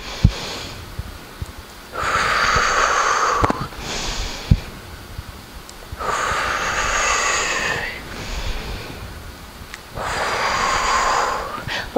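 A person breathes in and out audibly during a squat exercise on a rebounder, three long, close, breathy exhales spaced evenly a few seconds apart, with no talking over them.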